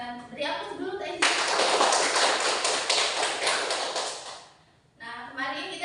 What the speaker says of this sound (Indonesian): Beri aplaus dulu untuk Angel.